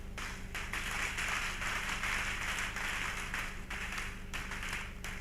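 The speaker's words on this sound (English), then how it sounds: "Clap well," A church congregation claps steadily during a sermon, a dense, sustained wash of hand claps filling the room at close to moderate distance, with no voice on top.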